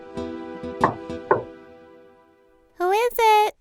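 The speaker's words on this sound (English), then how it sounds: "he knocked on their door" Two firm knocks on a wooden door, as a wolf raps at the little goats' house in a fairy tale, sounding over soft background music, followed by a high childlike voice answering.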